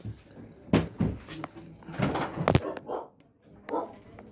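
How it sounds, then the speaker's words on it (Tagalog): A large dog gives several deep, sharp barks at irregular intervals, close by, mixed with knocks and some background voices. "May malaking aso."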